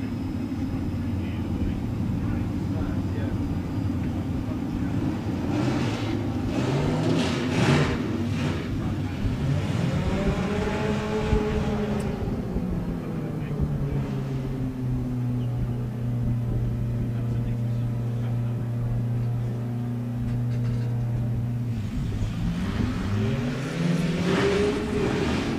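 Drag racing cars at Santa Pod, Mick Hillier's Texas Ranger against Ian Corsell, a steady loud engine drone with rising and falling revs and pitch sweeps, under continuous commentary.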